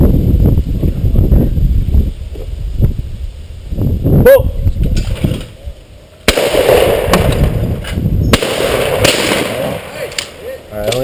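Shotgun blasts at sporting clays, sharp loud reports with a couple of strong cracks among outdoor chatter and movement, people talking around the shots.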